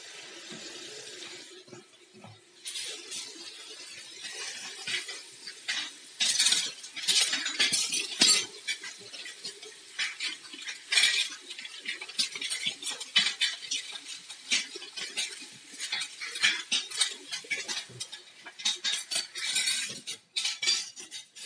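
Dishes being washed, with cutlery and pots clinking and scraping in irregular bursts, some sharp clatters standing out against quieter rinsing and stirring moments; no voices.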